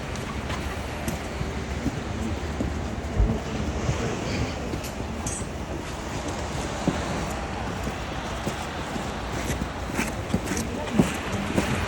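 Ocean surf rolls onto Sand Beach in Acadia National Park, a steady broad wash of waves with wind buffeting the microphone, fairly quiet and continuous with no talking.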